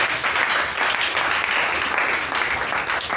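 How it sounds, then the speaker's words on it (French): A church congregation applauds with dense, steady clapping throughout, loud and close, with no talking. "Est-ce qu'on peut acclamer aussi?"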